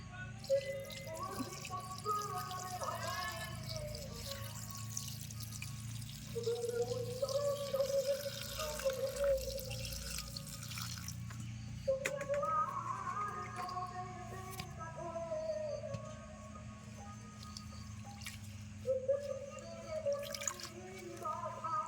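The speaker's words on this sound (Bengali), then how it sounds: "শাকগুলো ভালো করে বেছে নিয়েছি এখন ধুয়ে নেবো" Fresh coriander leaves are rinsed in water, with soft drips, splashes and trickling sloshes recurring close by at a low level, while faint background voices and birdlike chirps sit underneath.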